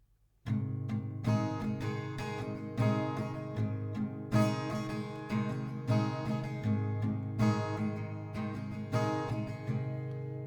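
Steady acoustic guitar strumming of a song at a moderate tempo, bright rhythmic chords ringing out close and clear with no voices.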